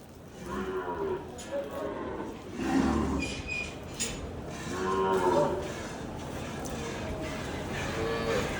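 Cows mooing in a shed, several long low moos one after another, close by, with faint background noise between calls.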